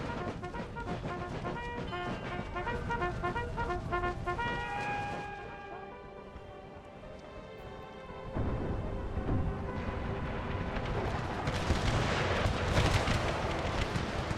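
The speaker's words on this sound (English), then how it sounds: "Ooh, more good cannon hits, this time from the Napoleon." Napoleon cannon artillery fire in Empire: Total War (Brothers vs. Brothers mod) rolls out as dense booming bursts over a busy battlefield with music-like tonal layers, easing midway before another heavy wave of firing builds toward the end.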